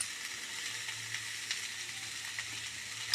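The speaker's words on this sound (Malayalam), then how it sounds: "അപ്പോൾ ഞാനിനി ഇതിനെ നന്നായി ഒന്ന് ഫ്രൈ ചെയ്തു" Potatoes and capsicum frying in a pan with little water, giving a steady, fairly quiet hiss and sizzle throughout with faint crackles and no voices.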